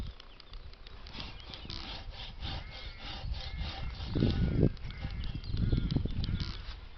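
A hand saw cuts through a crossing branch on an old damson plum tree, rasping in steady back-and-forth strokes that are close and fairly loud, with heavier rough strokes toward the end.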